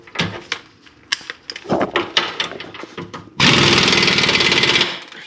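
Lower control arm bolts on a 2005 Honda Pilot are tightened: several short clanks and ratcheting taps, then a loud, sustained burst of an air or impact tool for about a second and a half, close by.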